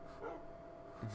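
A dog barks indoors in a room, a couple of short, faint yaps rising above a quiet background, with one near the start and another at the very end.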